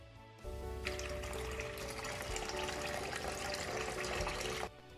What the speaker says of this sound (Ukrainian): тільки що я наливала воду